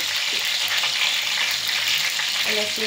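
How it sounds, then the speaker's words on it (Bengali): Bay leaves and cinnamon dropped into hot oil on a stove for a duck curry, a loud, steady close-up sizzle with faint stirring and no voices. "তো এই যে চুলাতে আমি তেল গরম দিছি, তেল ডালছি, এখন গরম হয়ে গেছে। এখন আমি এখানে দেবো তেজপাতা আর দারচিনি দিয়ে দিলাম"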